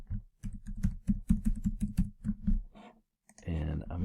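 Quick bursts of keyboard typing clatter close by as a word is entered on a computer keyboard, rapid irregular key clicks for about three seconds, then a short pause and a voice begins speaking.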